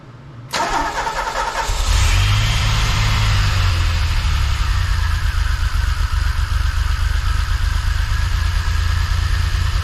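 A DeLorean engine cranks briefly, catches and fires up, then settles into a loud, steady running rumble with rough timing that continues to the end, close by with no talk.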